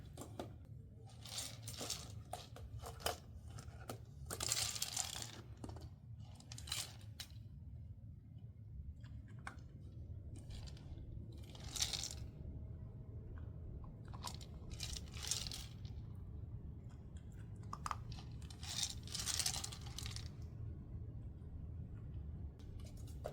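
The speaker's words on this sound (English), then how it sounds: "She's just having a little snack here, working for her lunch." Puppy eating kibble from a slow feeder bowl, soft scattered crunches and clinks of pellets against the bowl in irregular bursts, quiet and close with no talking.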